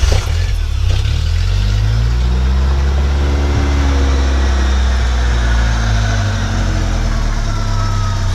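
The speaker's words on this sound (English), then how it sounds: "so it starts, revs up a little bit." A 1970 Datsun 521 truck engine with fuel injection turns over and catches, then idles loudly with a few rising revs, steady and close throughout.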